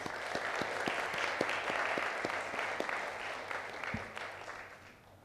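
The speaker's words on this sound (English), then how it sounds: "Please give a round of applause to Ajahn" A seated audience at an engineering faculty information session gives a round of applause, a steady, fairly soft wash of clapping with a few sharper individual claps standing out, lasting the whole five seconds.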